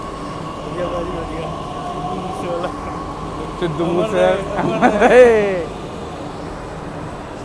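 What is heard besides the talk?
Delhi metro train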